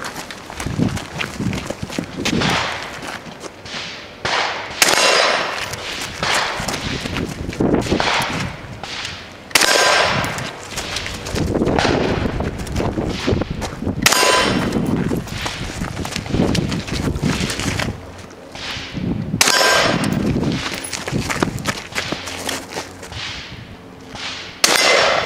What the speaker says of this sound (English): Shoot that effing gun.